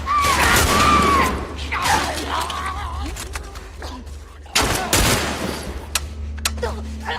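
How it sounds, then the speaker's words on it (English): Gunfire in a shooting video game, sharp bursts of shots with booming impacts and a sudden loud crack midway, mixed with game sound effects and faint voices. "Make every shot count now."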